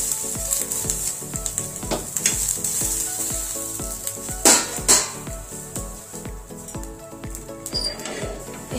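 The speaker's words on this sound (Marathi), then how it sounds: "मग या प्रकारे छान वाफवून घ्यायचे आहेत आणि खूप जास्त कडक पण असे भाजायचे नाही" Fresh pigeon pea beans (tur dana) dry-roasting and gently steaming in a pan: a steady soft sizzle with scraping stir strokes throughout, two louder clattering stirs midway, no talk.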